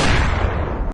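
A single loud pistol gunshot, a sharp close boom with a short decaying tail that cuts off abruptly.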